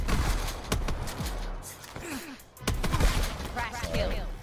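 Enemy gunfire in the shooter game Black Ops 4 crackles through the scene as repeated sharp bursts and scattered shots at varying distances, with someone talking and reacting over the shooting.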